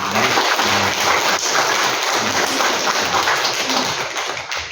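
A church congregation applauds together, a dense, steady wash of clapping that stays loud and even for several seconds with no speech over it.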